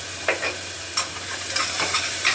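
Chopped onion with a spoonful of salt sautéed and stirred in a pan on a home kitchen stove: a steady close sizzle with several scraping stirs of the spoon, alone without talk.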